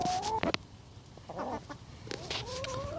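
Chickens and new hens cluck and call at an allotment, several short squawks and rising calls from nearby birds with a steady outdoor background.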